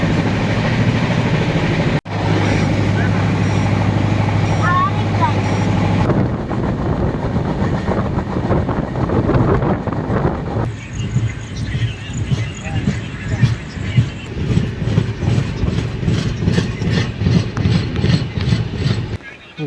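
The Darjeeling Mail on the Kolkata-to-Darjeeling run rolls at speed with a loud rumbling roar and rhythmic wheel clatter, while a voice talks over it for much of the time.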